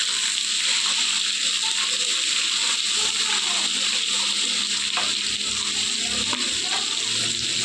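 Onions sizzle and fry in a pan for chicken biriyani, a steady bright hissing sizzle with occasional stirring scrapes, close and continuous while a voice talks over it.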